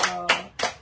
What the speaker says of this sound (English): If you are happy, clap the hand.